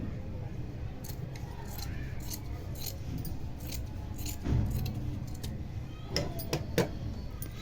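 Scissors snip through blouse fabric in a quiet room, a run of sharp, irregular metallic cuts close by with a few louder clicks toward the end, without any voice.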